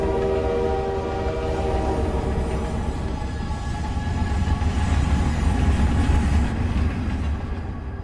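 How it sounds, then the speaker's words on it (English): A train rolls past in a horror film scene, its low rumble steady beneath a sustained multi-tone horn that sounds loudly for several seconds before fading away near the end. "What did the train have to do with that?"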